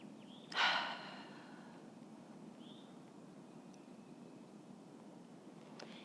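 One audible slow exhale, close and breathy, comes from a person doing guided breathing, then near silence with faint room noise follows.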